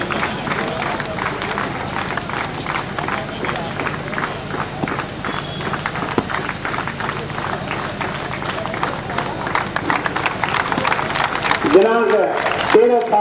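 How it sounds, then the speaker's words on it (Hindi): A crowd applauding continuously at a police ceremony honouring constables, a dense steady patter of many hands clapping, with faint speech noise underneath and a louder swell near the end. "तालियां लगातार बजनी चाहिए"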